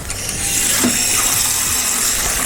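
An on-demand water heater's flushing pump hums steadily once switched on, with water churning and trickling through it and a faint mechanical rattle running continuously, close by and with no voices.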